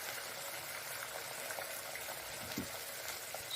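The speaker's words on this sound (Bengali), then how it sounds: "সবজিগুলো ভালো করে একটু ভেজে নেবেন।" Vegetables for fried rice frying in a pan, a steady close sizzle with soft bubbling and faint stirring, heard alone without talk.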